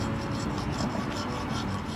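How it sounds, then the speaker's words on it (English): Hammer and chisel carving, heard as a dense, continuous rasping scrape of a blade working into material, steady and close with faint rhythmic pulses and no talking. "sizzling away with a hammer and a chisel"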